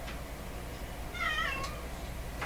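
A cat meows once at a door, a short, clear, moderately close call over a steady background hum.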